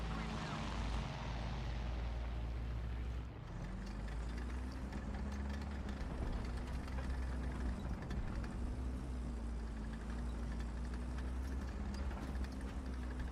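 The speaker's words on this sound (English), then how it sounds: "No way, that's a teammate engine" A teammate's tank engine in the combat game War Thunder idles and rumbles steadily at close range, a continuous low droning hum that runs throughout.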